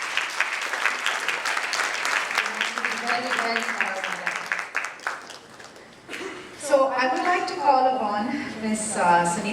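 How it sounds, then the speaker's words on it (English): Audience at an IMC Chamber of Commerce sports conclave applauds the women's cricket team, a dense wash of clapping from a seated crowd that swells and continues steadily, with voices talking over it in the later part. "I would ask for another round of applause for our women's cricket team"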